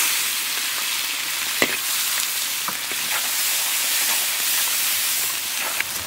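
Seasonings fry in hot lard in a wok, giving a loud, steady, close sizzling hiss with a few sharp crackles and pops scattered throughout.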